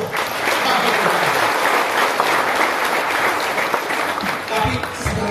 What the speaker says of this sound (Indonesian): Berikan tepukan kemuruh